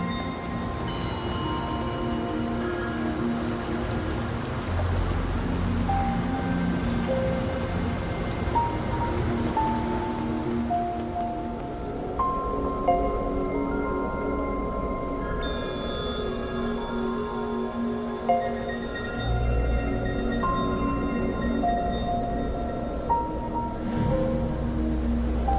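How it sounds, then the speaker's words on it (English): Steady rain falling in the video game Nier Reincarnation, a constant soft hiss running throughout beneath gentle, sparse melodic notes. "The only sound is the rain."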